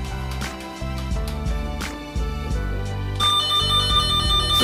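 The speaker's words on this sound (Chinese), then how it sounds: "此时我们可以听到只有这根电话线有明显的巡线的声音" Steady electronic warbling tone from an NF-8601 cable tester probe tracing a telephone wire at a network switch, continuous and fairly loud throughout, with a sharper, brighter ringing tone joining near the end.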